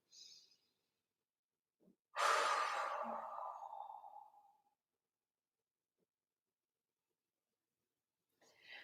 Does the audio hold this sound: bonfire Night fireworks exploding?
no